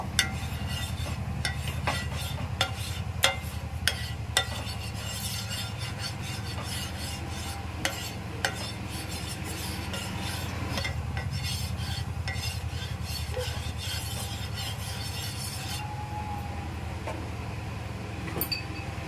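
A spatula spreads a little oil across a pan on a low gas flame while an egg paratha is being made, giving soft repeated scraping and rubbing strokes with occasional light clicks, close and quiet.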